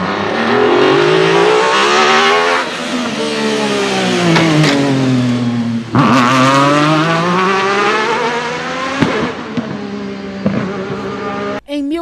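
Alfa Romeo 155 DTM touring race car engine revs hard and loud up close, pitch rising and falling through several sweeps with brief dips between, heard alone with no talking.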